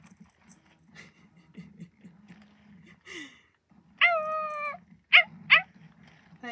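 An Aibo robot dog lets out a drawn-out electronic, meow-like yap, then two short quick calls, loud against a quiet indoor room with soft low hum and faint small noises.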